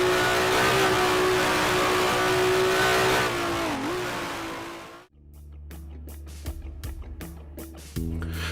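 Simulated 1967 Honda RA300 Formula One engine in Grand Prix Legends, droning loud and steady at high revs, dipping briefly, then cutting off and rising again through sharp gearshift bursts as the car crosses the line.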